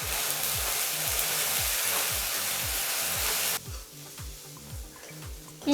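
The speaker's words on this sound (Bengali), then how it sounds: "পেঁয়াজের পেস্টটাও ভেজে নেব।" Onion paste fries in a pan with a loud, even sizzle that suddenly drops to a quieter hiss partway through, with a soft clink at the close.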